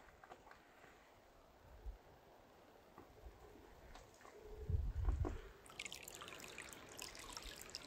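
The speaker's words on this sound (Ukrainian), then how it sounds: "Тут біля колиби таке джерельце." A small spring trickles beside a mountain hut on a winter hike, a faint, steady dribble of water with soft, close knocks and rustles partway through.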